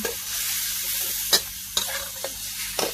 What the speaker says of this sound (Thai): ผัดพริกแล้วก็ ผัดกระเทียมหมูสับสามอย่างให้หอม